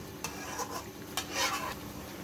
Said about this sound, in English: Now I roast the chicken and arum